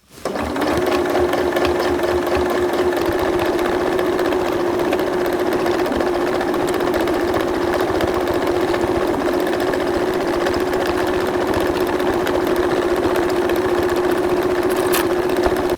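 A sewing machine stitches a zipper onto slippery fabric for a dog cushion cover, running in one steady, unbroken whir for the whole stretch, close and loud with no talking.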